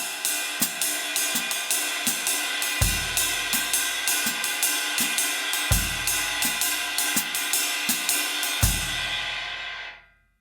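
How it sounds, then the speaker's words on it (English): Close, steady Mozambique pattern on a drum kit: a busy ride and hi-hat figure ticks along while a deep bass drum thumps on beat one of each bar, then the kit rings out and stops. "First thing we're going to do is just put the bass drum on beat 1 with that."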